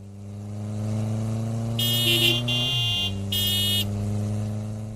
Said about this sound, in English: each rider began honking their horn